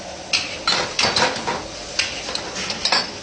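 Tomatoes sautéing in a pan for tofu sambal, stirred with a metal spoon: repeated scraping clinks of utensil on pan over a steady sizzle, irregular strokes close up.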